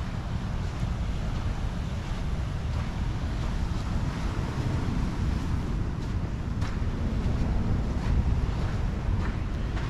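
Ocean waves wash against a rocky shore at São Francisco do Sul, a continuous rough surge mixed with strong wind buffeting the microphone.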